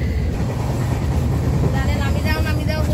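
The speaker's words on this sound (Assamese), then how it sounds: "এইখন বোলে এচি ট্ৰেইনত আহিছো আমি" An air-conditioned Duronto Express passenger train runs along with a continuous low rumble and rolling rattle, heard from inside the carriage at a loud, steady level.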